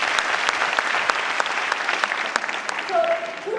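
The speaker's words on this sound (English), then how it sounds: "Can we have a round of applause for Shruti?" Audience at a Jaipur talk gives a round of applause for Shruti, a dense, even wash of clapping that fills the stretch, with a brief voice surfacing near the end.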